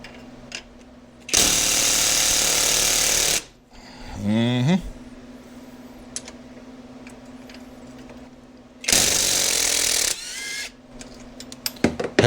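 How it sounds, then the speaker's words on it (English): A cordless impact wrench works on bolts in a garage. Two loud, close bursts of buzzing hammering, each lasting a couple of seconds, are separated by quieter handling noises and a brief whirring spin. "I feel like I'm going to just use an impact there."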